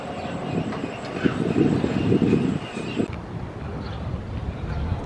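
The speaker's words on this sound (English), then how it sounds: "One of the fun things to do here in Christchurch City is to go on the tram" A city tram running through Christchurch, a low rumbling roll with a rising swell of wheel and motor noise in the middle, then fading under general street ambience.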